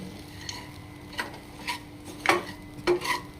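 Flattened rice, white and red, is mixed in a pan: soft scraping and rubbing strokes with a few sharper clinks of a spoon against metal, quiet and spaced irregularly, with no voices.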